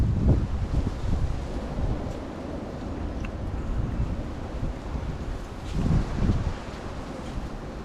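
Gusty wind rushing past the microphone outdoors in a garden, a continuous moderate roar that swells in a couple of stronger gusts.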